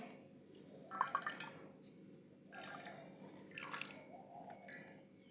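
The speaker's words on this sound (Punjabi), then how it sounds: "ਆਪਾਂ ਇਹ ਸਾਰਾ ਪਾਣੀ ਕੱਢ ਦਿਆਂਗੇ" Water drains from freshly made paneer in a village kitchen, with two bursts of close trickling and dripping liquid separated by a quiet pause.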